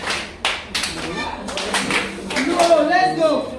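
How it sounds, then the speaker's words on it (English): Children clapping a mosquito clap routine at a nursery and primary school, a handful of sharp claps spaced out over a noisy room with young voices chattering and calling underneath. "Who knows the mosquito clap?"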